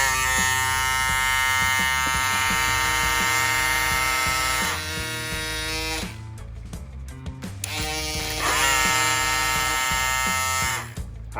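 An Andis Cordless Master hair clipper with a worn ball bearing wheel on its motor runs loudly and steadily, a harsh close buzz that continues almost unbroken with a couple of slight dips in level.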